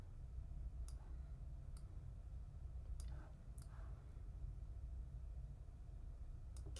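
Mouse clicks in a quiet room while working in Figma design software, sharp isolated ticks spaced irregularly, with a few close pairs sounding like double-clicks over a steady low hum.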